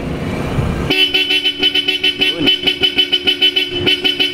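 A loud, close Bosch Europa horn on a Toyota Hilux Conquest honks in rapid repeated bursts after a brief rumble, sounding in a quick pulsing rhythm.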